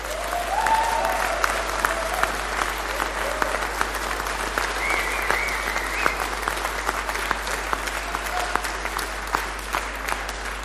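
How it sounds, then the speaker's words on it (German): Loud, continuous applause fills a hall at a Pirate Party state convention in honour of an organizer, dense clapping throughout with scattered voices and whoops rising above it. "einen Applaus für den Fitz"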